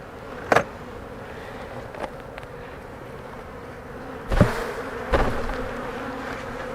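A steady low buzz of honey bees hovering around a hive, broken by a few sharp knocks and thumps.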